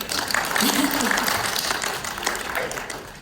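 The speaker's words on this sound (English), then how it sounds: "That deserves a clap." A chapel audience claps together in a steady wash of applause that swells and then tapers off, with voices mixed in over the clapping.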